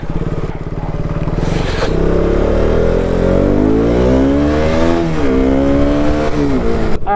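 A motorcycle rides along a snowy road in Kashmir in extreme weather, its engine revving up with rising and falling pitch through gear changes, close and loud over wind noise from an open visor.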